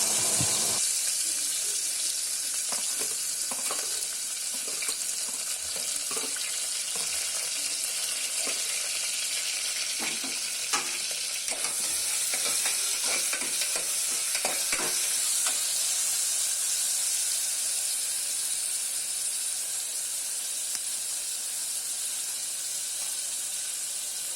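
Chopped onions frying in oil with cinnamon, cloves and cardamom for a pepper chicken kulambu, a steady close sizzle and hiss with scattered stirring scrapes throughout.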